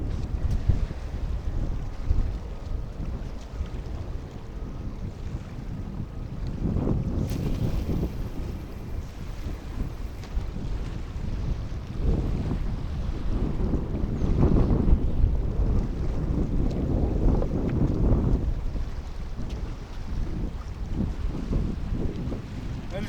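Strong, gusty wind buffeting the microphone on a riverbank during a cold front while bank fishing for catfish, a rough continuous low rumble with surging gusts, no talk.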